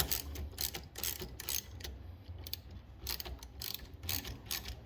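A ratchet tightens a bolt on the rear bypass lever latch of a first-generation Toyota Sequoia, giving close, rapid bursts of sharp clicking in quick repeated strokes.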